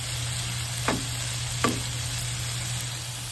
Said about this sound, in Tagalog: Durugin na natin ang maigi itong kamatis.